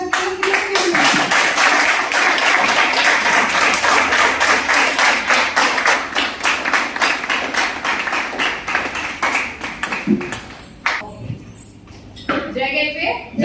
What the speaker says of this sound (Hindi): तो जोरदार ताली के साथ